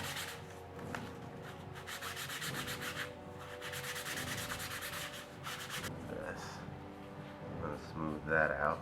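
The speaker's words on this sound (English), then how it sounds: "Anything that you hit with the Dremel, you want to go over with 220 grit sandpaper, so that way it'll smooth it out." Sandpaper of 220 grit rubbed over an EVA foam sword surface, smoothing spots left by a Dremel, giving a steady scratchy rasp in repeated strokes, close and fairly loud, with a person talking at times over it.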